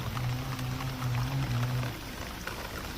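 Steady rain patters broadly over a water lily pond, a dense even hiss, while a low droning hum runs beneath for the first two seconds.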